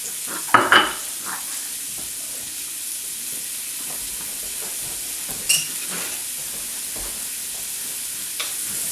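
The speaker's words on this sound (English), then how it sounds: "You can see it sizzling." Steady sizzle of onion frying in hot oil with a hissing crackle throughout, broken by a few sharp clanks of a utensil stirring in the pan.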